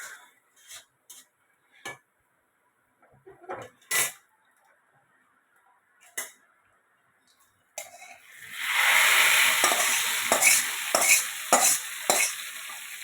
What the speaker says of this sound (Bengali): হ্যাঁ, একটুখানি ভাজা ভাজা হোক।